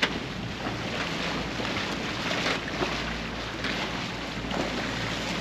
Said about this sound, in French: On a la navette des douanes qui est en train de nous doubler.